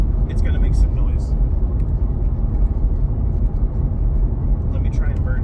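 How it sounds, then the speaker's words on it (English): Steady low road and tire rumble inside a Corvette C6 Z06 riding on 345-width rear tires, a constant drone that fills the cabin while a person talks over it. "It has decent road noise."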